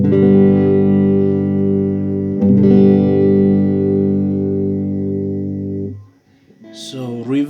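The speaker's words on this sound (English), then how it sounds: "This is just like a clean channel with nothing added, so I'm just going to dial a little bit of reverb up to say 3," A 1990 Fender Frontman amplifier on its clean channel with reverb set to about 3 rings out with sustained electric guitar chords, loud and close, one chord restruck midway before it fades and a few lighter plucked notes follow.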